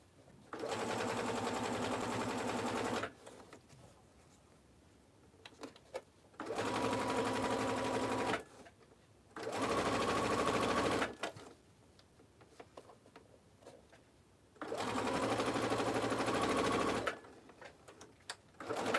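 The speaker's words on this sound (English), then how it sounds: "I am just sewing it 1/8 of an inch away from the edges until I hit that next mark." A sewing machine stitching along the edges of a tote bag runs in four loud, steady bursts of a few seconds each, with quiet pauses and small handling clicks between them.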